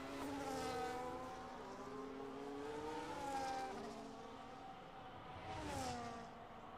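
An F1 race car engine revving in second gear in a British Grand Prix racing game, a thin buzzing whine rising and falling in pitch as the car passes through corners, steady and moderately quiet with no talk.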